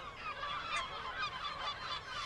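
Geese at a winter resting site give a chorus of honking calls, moderately distant and overlapping in irregular bursts, with no talk.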